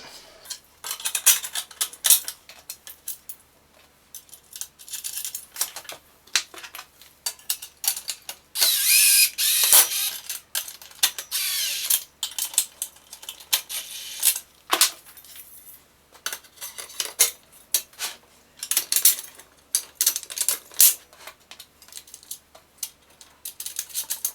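Screws are driven by hand during assembly of a Parkside workbench, with repeated close ratcheting clicks and metallic clinks of parts and hardware in irregular bursts, no voices.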